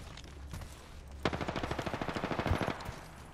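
Rapid automatic gunfire in a video game, a dense run of regular near bursts starting after a quiet lead-in and lasting about two seconds before tapering off.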